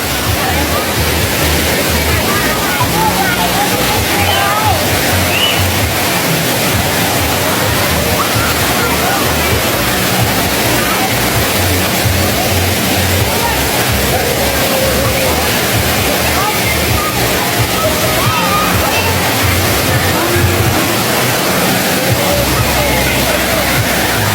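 Wang Kan Lueang waterfall in Lopburi, a loud continuous rush of water with splashing and sloshing near at hand, while people chatter and shout in the background.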